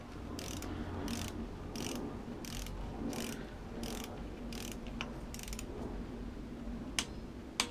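Regular ratcheting clicks from a torque wrench tightening the rear band adjusting screw on a Ford FMX automatic transmission, repeating in a steady rhythm of about a dozen bursts, ending with two sharp clicks.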